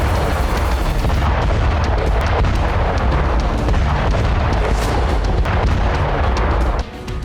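Russian rocket launcher barrage striking Ukrainian positions near Donetsk, a dense, continuous roar of booming explosions and artillery-like blasts that stays loud throughout before cutting back slightly at the end.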